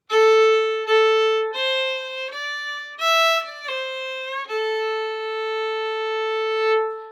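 A solo fiddle plays a short phrase of the old-time tune Cluck Old Hen, single bowed notes with a little slide, close and clear, ending on a long held tone.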